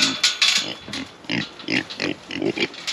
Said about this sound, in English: we've got 2 Kuni Kun pigs. They're real sweet pigs